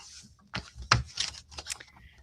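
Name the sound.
shuffling tarot cards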